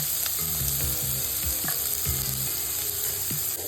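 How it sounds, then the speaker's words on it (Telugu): Chopped onion frying in a little hot oil in a pan, giving a constant close crackling sizzle with repeated low stirring scrapes and taps through the whole stretch. "ఈ ఉల్లిపాయ ముక్కల్ని కొద్దిగా ఫ్రై చేసుకోవాలండి"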